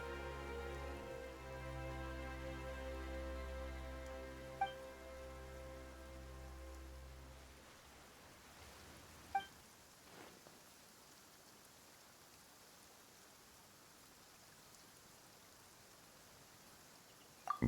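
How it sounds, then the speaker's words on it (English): Steady rain in the video game Genshin Impact, a soft broadband hiss that starts under tonal game music and then continues alone for several seconds, with a few brief louder drops. "Why is it raining all of a sudden?"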